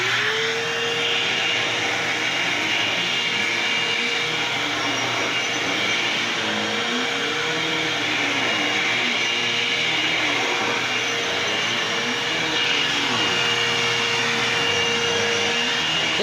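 A salvaged vacuum cleaner found in a dumpster runs steadily with a loud, continuous motor whine and airflow roar, a faint tonal hum wavering slightly as it keeps going without pause.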